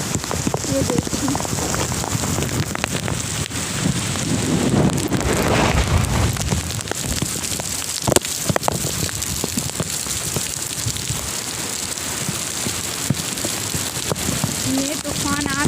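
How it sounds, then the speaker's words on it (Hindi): Heavy rain and strong gusty wind from Cyclone Yaas making landfall in Odisha roar loudly and steadily throughout, with dense pattering rain over rushing wind and no break. "आप हवा की आवाज़ भी सुन सकते हैं, कितनी तेज़ हवा है यहाँ पे।"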